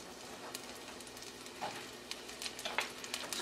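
Two medium onions sweating in olive oil over low heat for stewed red herrings, a quiet, soft sizzle with light scraping from a stir toward the end, heard close with no talking.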